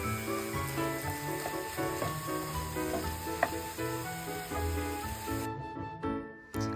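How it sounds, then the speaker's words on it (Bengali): Fried rice with egg and vegetables sizzling steadily in a pan, a close, continuous frying hiss with occasional stirring clinks, no talking, then cutting off near the end. "এবার এটার মধ্যে ডিম অ্যাড করে ভালোভাবে একটু ভেজে নিয়ে দেন"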